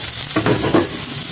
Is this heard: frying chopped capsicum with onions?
yes